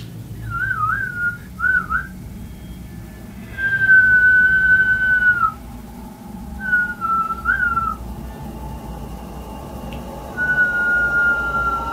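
A person whistles short sliding notes, then several longer sustained tones with pauses between, close and clear over a soft rumbling background.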